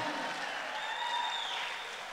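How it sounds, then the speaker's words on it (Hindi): An audience claps at a launch event for the Mor Mati app. The applause is faint, distant and even, with a thin ringing tone drifting above it. "ताली बजाओ"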